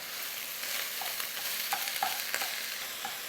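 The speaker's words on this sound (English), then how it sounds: "So I'm going to cook this for about 5 minutes until the turkey is cooked through." Lean ground turkey fries in a pan for chili, giving a continuous soft sizzle with scattered crackles and light spatula taps, close and without voices.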